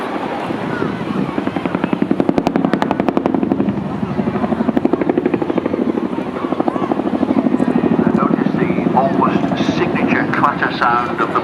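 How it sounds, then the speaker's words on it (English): Chinook twin-rotor helicopter at the Swansea air show, its blades beating a loud, steady rhythmic clatter as it descends and manoeuvres, with a commentator talking over the rotor noise throughout. "Clatter sound of the blades."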